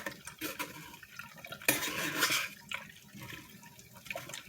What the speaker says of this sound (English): just pour it in the strainer and just move it with the spoon